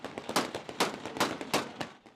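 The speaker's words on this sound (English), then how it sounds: "jubilation and gunfire as many Syrians celebrate the fall of the Assad regime" Celebratory gunfire in Damascus, Syria, crackles as a string of sharp, fairly distant shots in an irregular rhythm, several bursts spaced over a couple of seconds with no talking.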